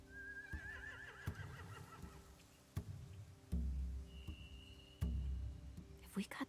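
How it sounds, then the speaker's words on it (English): Horses neighing in The Walking Dead video game, a thin rising whinny early on, then ambient game sounds with low thuds and a later steady tone, moderately faint throughout. "Scare the horses, too."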